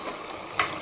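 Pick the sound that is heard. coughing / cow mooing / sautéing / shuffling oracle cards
sautéing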